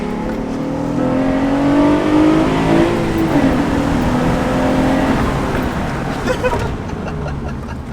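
A car with a stock J35 V6 engine revs and drives past at a cars and coffee meet, a loud, rising and falling engine roar with pitch sweeps, amid outdoor crowd noise and background voices.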